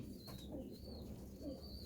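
A caught stray pigeon gives two soft, low coos, faint and spaced about a second apart against quiet background noise.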